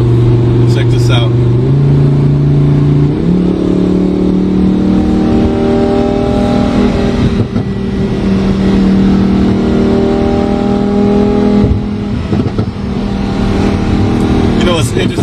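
A car engine in sport mode revs and drones steadily, rising in pitch through gear changes, with exhaust crackles and pops breaking through, loud and close, while people talk over it.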